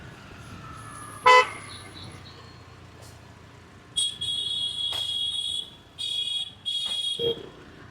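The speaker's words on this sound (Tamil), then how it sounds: "இந்த ரோடு எப்போதுமே வந்து டிராஃபிக்காக தான் இருக்கும்" Busy traffic on a Pondicherry road hums low and steady while car and scooter horns toot, one quick blast early and then several longer honks close by in a row.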